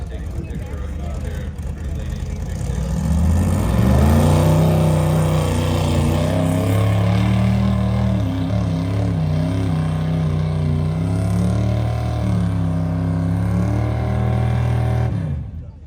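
A vehicle at an outdoor expo car show holds a loud, sustained engine rev as its rear wheels spin, the pitch rising and wavering slightly for several seconds before cutting off, with people talking over it.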